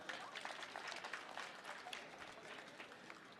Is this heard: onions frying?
no